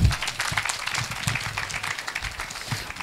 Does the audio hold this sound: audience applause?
yes